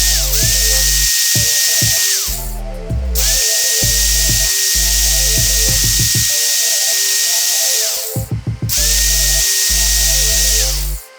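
A Craftsman rotary tool scrapes paint off a plastic Nivea gel bottle, whining at high speed in long steady runs with brief pauses and changes of pitch, loud and close, with no talking.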